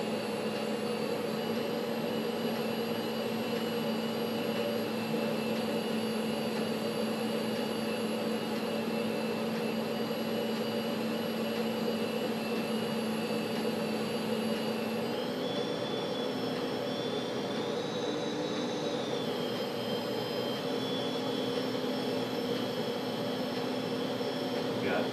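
A Litehawk 2 three-channel RC plane's electric motor runs at full throttle with a steady, high buzzing whine. Its pitch climbs and dips briefly partway through, then holds steady close to the listener.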